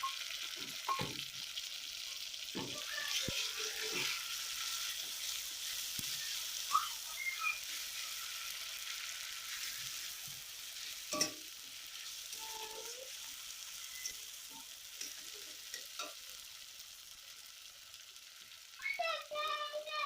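Freshly ground paste of ginger, cumin, coriander, dried red chilli and garlic frying in a pan in a village kitchen, a steady close sizzle broken by scraping stirs and clinks, with a voice faintly in the background.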